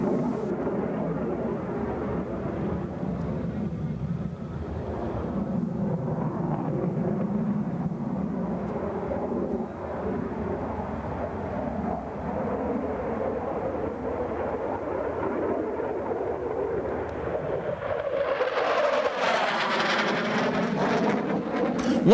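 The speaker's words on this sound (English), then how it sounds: "the F-16, capable of Mach 2, serves as an interceptor or a fighter bomber" An F-16 Fighting Falcon jet roars past, a sustained broad engine rumble that swells into a rising, sweeping whine near the end.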